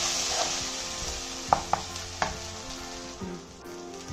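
Ginger and garlic sautéing with turmeric and chili powder for a drumstick prawn gravy, a steady close sizzle with a few sharp clicks of a spoon against the pan, no voices.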